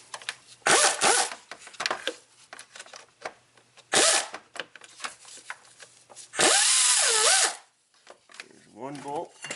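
Bolts are being removed from a Subaru engine during a head gasket teardown. A power tool gives loud, close, harsh buzzing bursts, some short and one longer run, between quieter clinks and a little speech.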